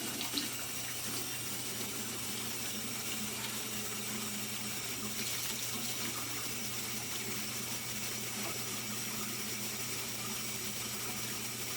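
A tap runs steadily into a basin, filling rinse water in a care setting, a constant broad splashing rush that stays at the same loud level throughout with no voices.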